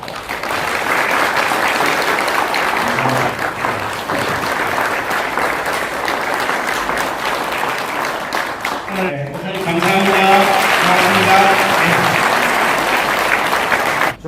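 At the opening of a men's mission society church sports day in Gyeongnam, a large crowd claps loudly and steadily for a long stretch. Announcers talk and murmur over the clapping partway through.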